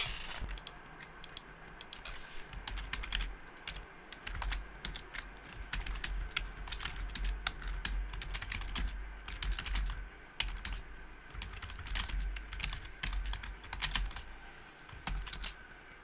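Steady typing on a computer keyboard continues for the whole stretch as rapid, uneven clacks of keys close by, with a low background hum.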